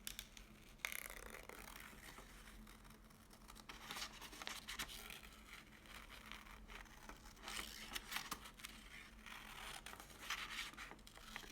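Scissors cut a glove pattern along a curved arc, giving soft, uneven scraping and snipping sounds at close range, quiet and continuous with slight swells.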